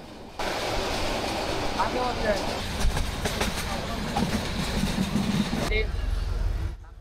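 The Parabat Express passenger train runs on the Dhaka to Srimangal line near Bhairab, heard from inside the carriage as a loud, steady rumble with rattling clacks that starts suddenly and fades near the end.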